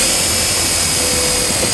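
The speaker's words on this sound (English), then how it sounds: "I'm gonna use a 1/4 inch socket to ground it up." A self-tapping ground screw is driven with a 1/4 inch socket while a trailer wiring harness goes into a 2010 Volvo XC90. It makes a steady, loud, close whirring drone for under two seconds, with no talking.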